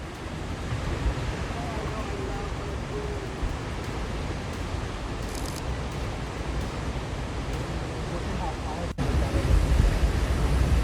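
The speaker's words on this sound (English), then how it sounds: "On the misty, rocky shore, the sound of crashing waves mixed with the wind whistling through the rocks" Continuous roar of surf pounding a misty, rocky shore with wind whistling through the rocks, loud and unbroken, swelling slightly heavier toward the end.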